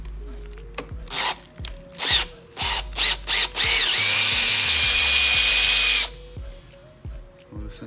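A power driver with a T27 bit loosens a bolt on a 2019 Can-Am Outlander 850 MAX XT windshield, giving several short whirring bursts followed by one long steady run, close and loud.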